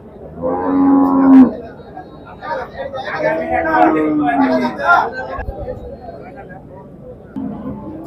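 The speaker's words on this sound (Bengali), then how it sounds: "এখানে অনেক সুন্দর গরু" Cattle low several times in long drawn-out calls amid a crowded market, with people chattering nearby throughout.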